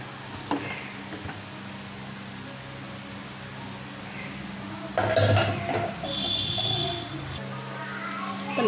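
A pressure cooker holding cabbage kootu is opened after two whistles and the release of its steam. A faint kitchen hum gives way to a sudden metallic clatter of the lid midway, followed by light clinks.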